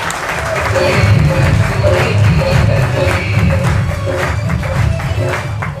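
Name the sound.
audience applause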